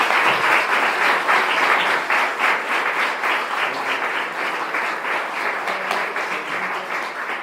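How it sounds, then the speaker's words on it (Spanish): An audience gives sustained applause for Doctor Castillo at a diplomado session on transparency and open government. Dense, steady clapping fills the room for the whole stretch, with no voices over it. "le brindemos un cálido y merecido aplauso al doctor Castillo"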